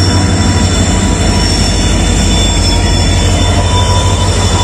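A train rolls in alongside the halted Konkan Kanya Express on the Madgaon to CSMT route, a loud, continuous rumble of wheels with squealing and rail clatter right up close.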